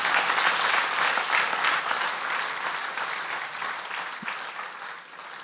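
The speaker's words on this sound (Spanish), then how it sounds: "Denle un aplauso al Señor." Church congregation applauding together, a steady dense wash of many hands clapping that holds fairly loud throughout and thins slightly near the end.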